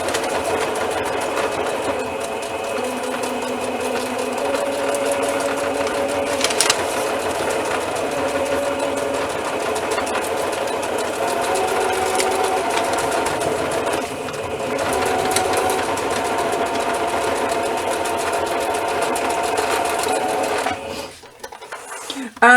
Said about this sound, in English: And I'm sewing with just ordinary stitching and ordinary foot